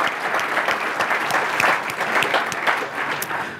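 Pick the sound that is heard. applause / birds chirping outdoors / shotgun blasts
applause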